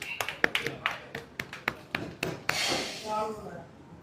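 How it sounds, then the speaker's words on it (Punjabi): A handful of people clap in short, uneven bursts, sharp close slaps spaced out irregularly, followed by a brief burst of voices. "ਆਪਦੇ ਆਪ ਦੇ ਲਈ ਤਾੜੀਆਂ ਮਾਰੋ"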